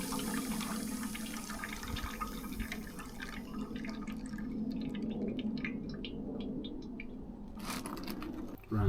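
Brake fluid drains back down through a Sealey pressure bleeding system on a Mercedes 410D. A steady, close trickling and gurgling runs throughout, ending in a sharp knock.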